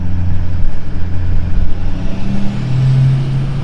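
A loud pickup truck engine rumbles steadily with deep low droning and slight revving, close by, no voices.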